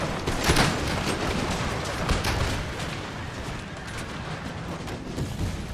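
Troops fire massed guns in a war video game set in the Netherlands during a river crossing. A dense, steady roll of overlapping distant volleys and booms runs the whole way, with a brief voice near the start.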